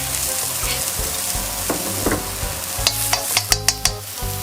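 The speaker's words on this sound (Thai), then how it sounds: "ผัดพอหอมนะ" Tofu stir-frying in a hot pan, a steady close sizzle of oil with scraping spatula strokes and sharper clinks and taps against the pan toward the end, no voices.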